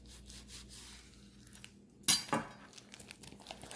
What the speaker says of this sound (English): I'm gonna cut this bacon right in half